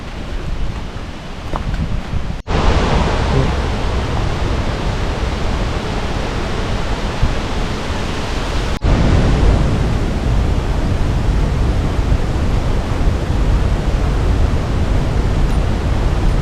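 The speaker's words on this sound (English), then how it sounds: "This is the beautiful Adams Falls, guys." Adams Falls, a waterfall along an evergreen trail at Ricketts Glen, gives a loud, steady rushing roar that fills the whole stretch with no letup and no voices.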